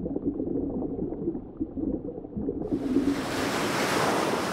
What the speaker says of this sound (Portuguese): Surgiram então as ondas e a maré